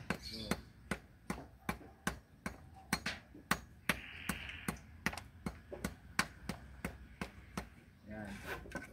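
A hammer drives nails into wood to lay out a footing on a construction site, with about twenty sharp, evenly spaced knocks in a quick, steady rhythm at close range.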